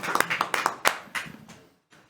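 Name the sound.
audience applause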